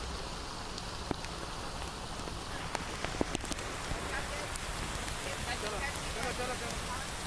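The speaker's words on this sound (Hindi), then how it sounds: "तेज बारिश अभी भी हो रही है" Heavy rain falling in Jaipur, a steady dense hiss of rain on surfaces with scattered sharp drips and taps throughout, continuous and fairly close, with no clear talk over it.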